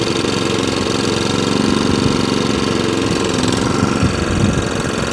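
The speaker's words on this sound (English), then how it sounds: "I have already had this machine running, as I say, when I picked it up, just to make sure the engine does run." The petrol engine of a Qualcast Suffolk Punch 14SK cylinder mower runs loud and steady nearby, a continuous throbbing drone with no speech.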